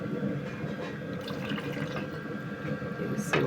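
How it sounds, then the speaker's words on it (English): Water poured in small amounts into a cooking pot beside bundles of coki corn, a steady low splashing and trickling close by, with a brighter splash near the end. "and we pour water in bits."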